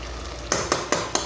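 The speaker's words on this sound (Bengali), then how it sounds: "এটা সিদ্ধ হবে, ভালো করে কষাতে হবে, না কষালে মশলা ভালো করে হবে না।" Spices fry in a pan while a utensil stirs them, giving a soft sizzle broken by four sharp scraping strokes at a steady rhythm, close by with no talk.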